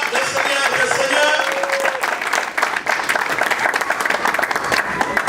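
Loud, dense applause from a church congregation at a ministry family conference, continuous clapping and crowd noise throughout, with a voice rising over it at the start.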